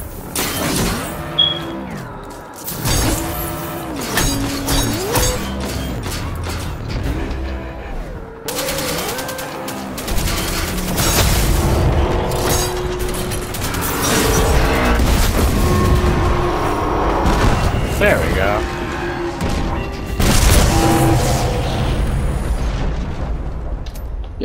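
Repeated explosions and heavy gunfire from the Destiny 2 video game, loud and dense bursts overlapping throughout with booming impacts and crackling debris, no talk.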